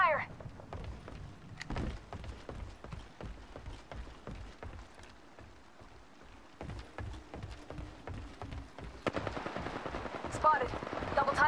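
Rapid gunfire in the Apex Legends battle royale video game, repeated sharp shots and bursts at varying distance, with quiet voices heard in the background.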